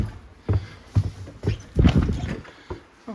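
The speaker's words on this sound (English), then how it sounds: "So sorry for the banging, just want to try to get the snow off." Boots bang against a porch to knock off snow outside a house front door, five or six dull, heavy thuds spaced about half a second apart, close by, with a brief doubled knock in the middle.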